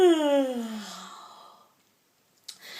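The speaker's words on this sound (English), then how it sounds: "I want you to give me a big fat yawn." A long, loud voiced yawn glides downward and fades into silence, followed by a brief breathy intake at the end.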